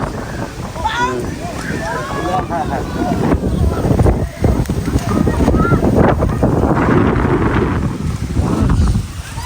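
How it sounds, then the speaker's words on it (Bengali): Strong wind on a riverbank in Bikrampur buffets the microphone in loud, steady gusts, with faint voices talking underneath throughout. "খুবই সুন্দর বাতাস উড়াই নিয়ে যাচ্ছে"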